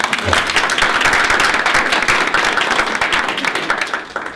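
Audience at a library budget and candidates forum gives a quick round of applause, dense, loud clapping from a crowd that holds steady and tapers off near the end.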